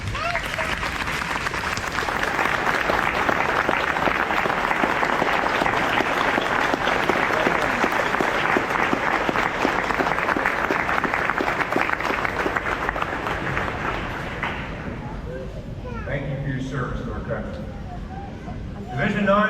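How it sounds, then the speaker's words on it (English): Applause for veterans rising at a Navy recruit training graduation ceremony, a loud, dense crowd clapping sustained for about fifteen seconds before it fades and thins out. "Would all our veterans please rise so we can give you a round of applause."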